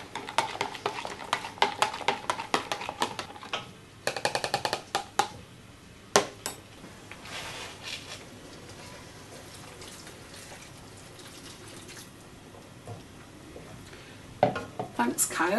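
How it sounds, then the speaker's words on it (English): Spoon stirring a stock cube into a pot of chili con carne, with scattered scraping and clinking against the pan and faint bubbling, loud at the start and end with quieter stretches, alongside occasional talk. "if you want to just stir that so it dissolves."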